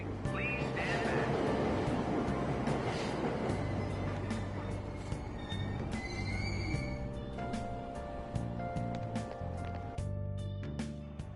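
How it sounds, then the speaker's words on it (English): Train doors closing and a train pulling away in the video game Persona 5 Royal, a dense, steady station rumble with hissing and chiming tones running throughout the clip. "Train doors are now closing. Please stand back."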